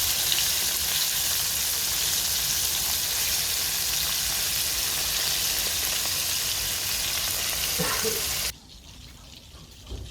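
Breadcrumb-coated chicken frying in hot oil, a loud, steady, dense sizzle that holds without a break, then cuts off abruptly near the end, leaving a quiet room.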